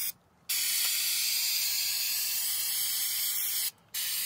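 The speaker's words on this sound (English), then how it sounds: "So now that the foam has dried, I'm gonna flex seal it." Flex Seal sprayed from a can over dried foam on a water pipe, a loud, steady close hiss lasting several seconds, briefly cut off at the start and near the end.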